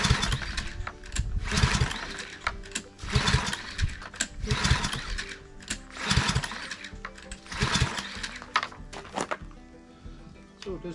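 Small engine on a pressure washer being pull-started for the first time of the season, several repeated bursts of rattling cranking and sputter separated by pauses, close and loud, failing to catch, with no talking.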